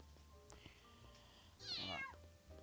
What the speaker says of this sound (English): Bloody cats.